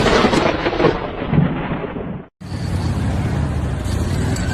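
Violent landslide giving off a heavy, deep, rumbling roar, loud and turbulent, cut by an abrupt brief silence midway before the churning roar resumes just as strong.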